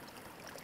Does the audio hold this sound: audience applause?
no